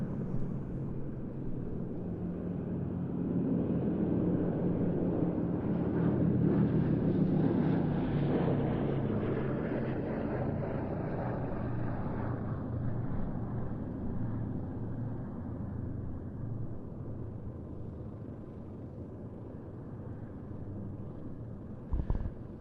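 A B-17 bomber at a flying display drones past in a long, steady rumble of piston engines that swells toward the middle and slowly fades, with wind buffeting the microphone throughout.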